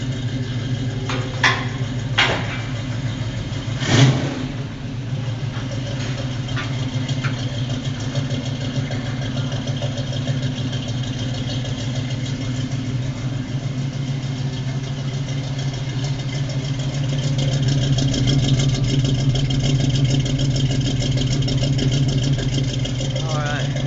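A 1965 Chevy Nova wagon runs through a new exhaust with Jag mufflers, a low steady idle rumble that swells slightly louder toward the end, with a few brief voices in the first seconds.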